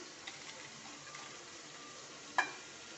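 Grated dry coconut fries in a pan with a steady, soft sizzling hiss, with a single sharp clink near the end.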